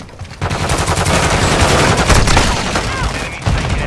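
Rapid automatic gunfire in the video game Call of Duty Modern Warfare II, a loud, dense burst of continuous shots lasting several seconds with overlapping cracks and a few heavier booms.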